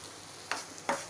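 Fenugreek seeds dropped into hot oil for a mango methamba relish give two short, close sizzling bursts a fraction of a second apart against a quiet background.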